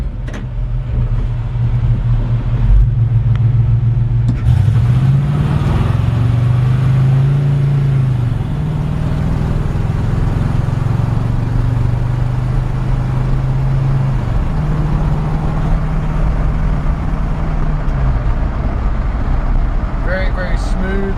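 A 1951 Chevrolet shop truck driving on the road, its engine a steady low drone with gear changes and rising pitch sweeps, loud and continuous throughout with road and wind noise.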